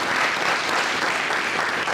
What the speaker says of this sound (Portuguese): Você pode aplaudir o Senhor Jesus nessa manhã?